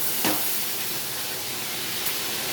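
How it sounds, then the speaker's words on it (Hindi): Dal tempering with garlic, onion, ginger and long green chillies sizzles in hot oil, a loud, steady broadband hiss that runs unbroken from start to finish with only slight swells. "दाल में तड़का लग रहा है।"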